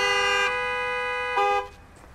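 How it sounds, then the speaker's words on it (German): Car horns blare in Gas Station Simulator, a steady multi-tone honk held for about a second and a half, then a second louder blast that cuts off, leaving a quiet tail. "hört mal auf mit Hupen"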